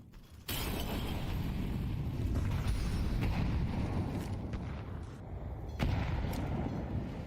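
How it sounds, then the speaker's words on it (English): Game explosions from a Counter-Strike esports match between Virtus.pro and BIG, a sustained grenade barrage roaring loudly and continuously with renewed blasts around the middle and near the end. "Artillery barrage here from VP"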